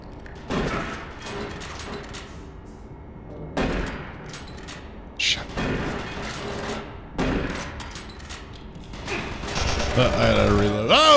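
Gunfire in the Doom 3 co-op shooter game: several loud bursts of shots spaced a few seconds apart, with mechanical clatter between them and a denser barrage at the end.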